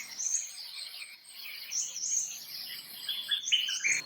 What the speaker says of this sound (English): let's record these birds.